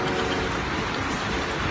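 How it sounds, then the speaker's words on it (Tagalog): Steady, dense rain falls outdoors, a loud continuous broadband hiss of drops hitting surfaces with no breaks, and no talking. "last ng ulan, background."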